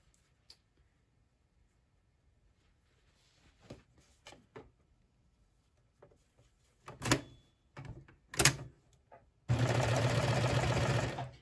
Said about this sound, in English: So 5/8 inch, just sewing the crotch together here.